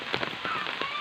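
Light drizzle falling steadily outdoors on the day after Diwali, a soft continuous patter of fine drops on surfaces, close and fairly quiet with no voices.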